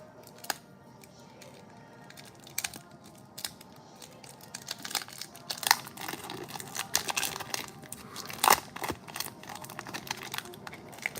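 Tightly wrapped 1993 Fleer Series 1 baseball card pack wrapper crinkling and tearing close up, in irregular bursts of sharp crackles with brief pauses between, no speech.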